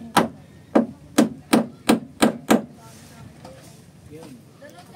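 A hammer strikes seven times in a quick, even rhythm, each blow a sharp close crack, then stops, leaving faint background noise and a few soft clicks.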